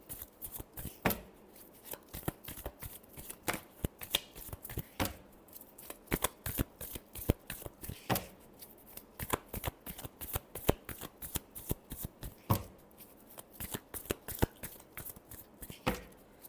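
A deck of tarot cards being shuffled by hand: rapid, crisp riffling flutters in repeated bursts, close and clear, continuing steadily for well over fifteen seconds with no talking.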